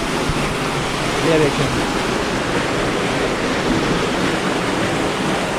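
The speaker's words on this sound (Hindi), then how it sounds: "एक नाला समझ ले, एक पानी गुजरता है, ये ऊपर से आ रहा है सैफल मलूक से।" A mountain stream flowing down from Saiful Muluk rushes loudly and steadily near the road by Naran, a constant broadband roar with a brief voice speaking over it.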